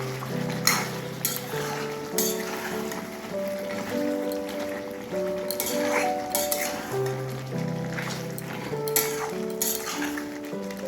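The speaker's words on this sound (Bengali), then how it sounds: "ঢাকনা খুলে নেড়ে দিচ্ছি।" Chicken and potato curry being stirred in an uncovered pot, with scraping and clinking of the utensil against the pot over a steady background tone and soft sizzling throughout.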